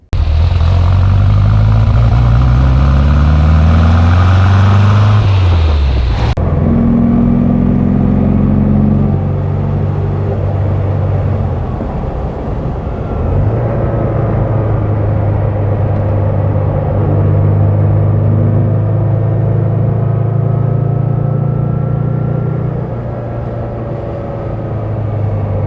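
A 1962 Porsche 356 B 2000 GS Carrera 2 with its rear-mounted four-cam racing engine runs loud and close, revving with rising and falling harmonic tones before settling into a steady, throbbing drone with shifting pitch.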